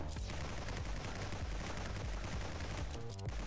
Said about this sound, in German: da wir eben nonstop schießen können